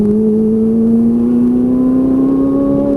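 A Ferrari 458 Italia engine accelerates on a race track, a loud, smooth high-revving wail rising steadily in pitch without a break.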